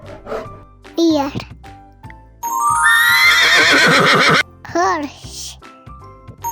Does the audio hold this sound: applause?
no